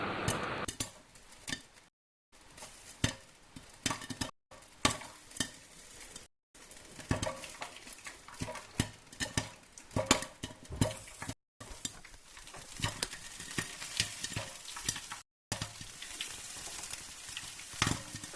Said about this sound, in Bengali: এই যে পপকর্ন ফোটা শুরু করেছে